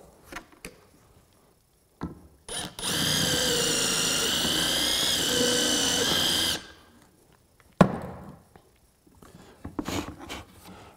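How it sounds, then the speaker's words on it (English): A power drill whines loudly for a few seconds at a steady high pitch, pre-drilling into a hardwood floor, then stops, with scattered knocks and handling noises before and after. "And we would again pre-drill."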